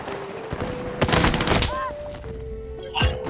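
Gunfire and explosions from the video game Battlefield 6: close, loud bursts of rapid shots with a dense, blast-like stretch in the middle, over other game sounds.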